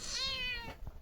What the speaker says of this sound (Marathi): मांजर बघा, मांजर छोटी आहे एकदम मस्त.